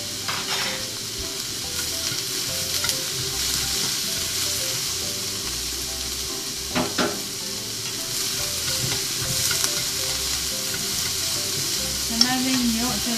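Onions stir-frying in a pan, with a continuous moderate sizzle, a few sharp scraping knocks of a utensil against the pan, and a faint steady hum, close with no speech.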